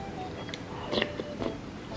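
Close, soft bites and chewing of rice wrapped in seaweed and dipped in doenjang, with a few crisp crunchy bursts over two seconds.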